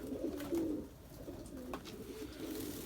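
Pigeons coo softly inside a shelter during snowy, wet weather, with low rolling coos repeating at a moderate distance against a quiet ambient hum.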